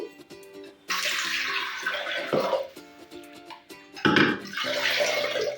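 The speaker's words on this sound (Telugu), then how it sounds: "మంచి వాటర్ పోసుకోవాలి" Water splashes and pours into a vessel of washed toor dal in a kitchen, coming in loud gushes with a brief pause, over steady background music.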